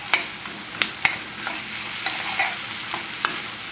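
Butter sautéing in a pan with shallots and garlic, a steady sizzle punctuated by several sharp clinks of a utensil stirring against the pan.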